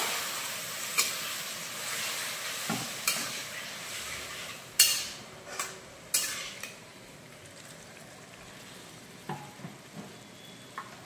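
Water is splashed into prawn masala frying in a pan, a soft hissing sizzle with a few sharp clinks and scrapes of a utensil against the pan, no voices.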